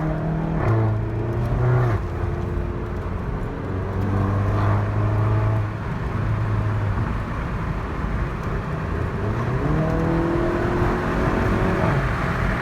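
A VW Golf GTI MK7 with a DSG gearbox accelerates, its engine note climbing and dropping through several quick gear shifts. The sound is steady and close, with a rushing background and no talking.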